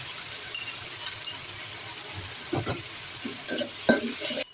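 Red lentils going into a frying pan with cauliflower and peas for a sago khichuri, giving a steady sizzle broken by several short scraping stirs and clinks, with no voices.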